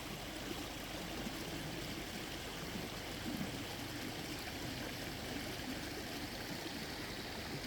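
A creek runs steadily near an off-grid cabin homestead, a continuous broadband rush of flowing water that holds even and unbroken throughout, with no voices over it.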